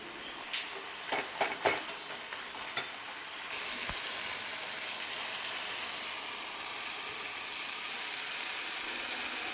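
Tomato roast gravy seasoned with pepper powder sizzles steadily in a pan, with a few sharp scrapes and clinks of a spoon early on before the frying settles into a continuous hiss, close and moderately loud.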